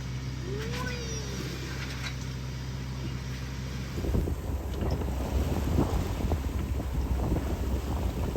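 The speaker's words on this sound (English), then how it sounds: "after a few hours, it finally happened. Wind." Wind gusts across a sailboat under way at sea, a steady low rumble that swells into a louder, fuller roar partway through, with buffeting on the microphone and faint water noise beneath.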